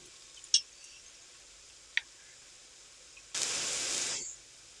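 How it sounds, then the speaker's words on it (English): Thin egg batter hits a hot frying pan with a sudden sizzling hiss that lasts about a second, preceded by a couple of light clicks in an otherwise quiet kitchen. "We are gonna fry these eggs"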